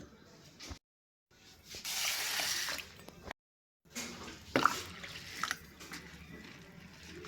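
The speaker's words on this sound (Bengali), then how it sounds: "আর ডালটা আমি এখন জল দিয়ে ভিজিয়ে নিচ্ছি।" Water poured and sloshing over urad dal (black gram lentils) in a small bowl as they are rinsed and soaked, with drips, squishy splashes and brief pauses between bursts, close and moderately quiet.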